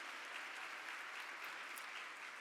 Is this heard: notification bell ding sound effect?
no